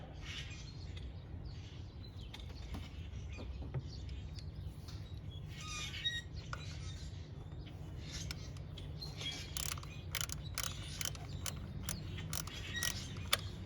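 Hand ratchet clicking while snugging a bolt on the power steering pump of a 2007 Cadillac DTS, quick bursts of faint mechanical clicks and ticks against a low background hum, with birds chirping outdoors.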